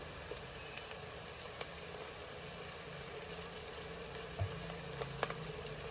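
Ginger garlic paste fries in a pan for a tomato and drumstick curry, giving a steady, quiet broadband sizzle with a few faint clicks and stirring ticks throughout, no voices.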